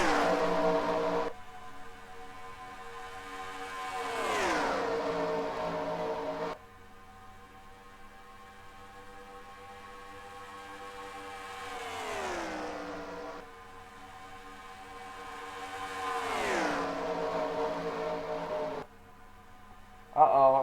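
Race cars in a stock car racing video game drive down pit road, passing one after another with rising and falling engine whines that sweep in and fade out, close and fairly loud.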